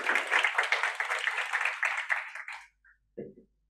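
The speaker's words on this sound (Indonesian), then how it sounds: "tepuk tangan untuk kita semua" A small audience at a coding meetup claps together for about two and a half seconds, fairly close, then the clapping stops abruptly and a few faint stray sounds follow.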